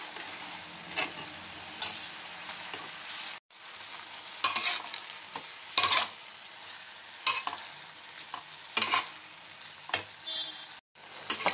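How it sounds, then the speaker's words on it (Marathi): A spatula stirs and scrapes sautéed leafy greens around a hot pan, making repeated scraping clinks over a steady soft sizzle, close up and without any talk. "आता उरलेली भाजी पुन्हा वरनं टाकून द्यायची आणि पुन्हा मिक्स करून घ्यायची"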